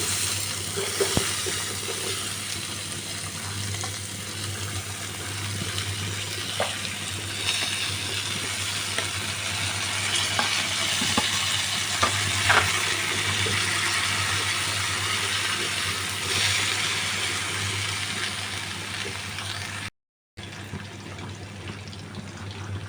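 Mixed vegetables tipped into hot spiced oil in a pan on a gas stove for fish shukto give a steady, continuous sizzle and hiss that runs unbroken for about twenty seconds, then cuts out briefly near the end.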